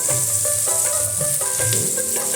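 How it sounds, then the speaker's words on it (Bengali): Vegetables frying in a pan with salt and turmeric make a bright, steady, close sizzle with occasional stirring scrapes, and background music runs underneath. "লবণ আর হলুদটা দিয়ে ভাজলে কিন্তু সবজিগুলো তাড়াতাড়ি ভাজা হয়ে যাবে"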